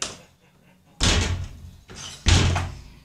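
A door in a survival video game shuts with two sharp, heavy thuds about a second apart, each followed by a short rumbling tail, loud and close.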